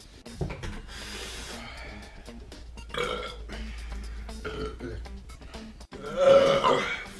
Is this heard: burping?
yes